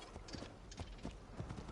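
Horse hooves clip-clopping in the video game Assassin's Creed, a quick run of close, distinct hoofbeats in an irregular trotting rhythm.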